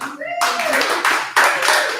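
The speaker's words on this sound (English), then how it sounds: "let's have another round of applause for all the readers tonight." Audience at a spoken word reading night in a gallery bursting into applause, dense clapping that swells, dips and swells again, with a voice talking briefly just before it starts.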